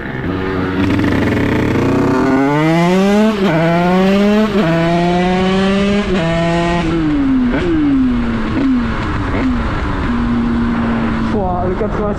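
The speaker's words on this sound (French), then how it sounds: "Moi sur la moto j'ai plus du tout de laine de roche, elle fait un bruit." A loud motorcycle exhaust with no rock wool packing left revs repeatedly, engine pitch climbing and dropping in sharp surges, close up and roaring, ending in a steady idle.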